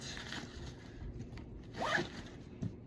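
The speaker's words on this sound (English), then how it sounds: "We have this nice zipper that I've also not used yet." Zipper on a Kings Guard 70l backpack being opened, a short run of raspy zipping with a quick rising pull near the end, close and quiet with no talking.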